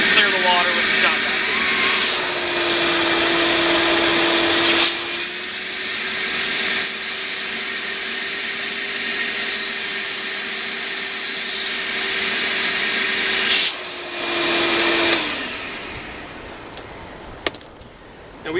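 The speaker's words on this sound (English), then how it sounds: "clear the water with the shot vacuum" A shop vacuum clears water out of an inground pool's plumbing lines during closing, running as a loud steady roar with a constant whine for about fifteen seconds, then cutting off into quiet with a few faint knocks.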